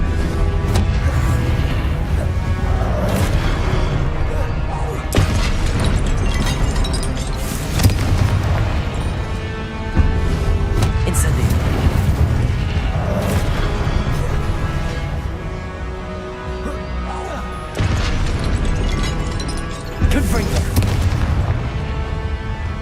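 Confringo spell explosions in Hogwarts Legacy, repeated loud booming blasts at intervals of a few seconds amid continuous game combat noise, with a voice speaking between them.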